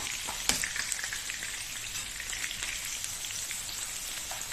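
Two small chopped onions fry in hot oil in a pan for ghee rice, giving a steady, dense sizzle close by with a crackling burst near the start and no talking.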